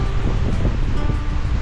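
Sea waves washing onto a remote shore, a loud continuous roar of surf mixed with heavy wind buffeting the microphone, with no voices.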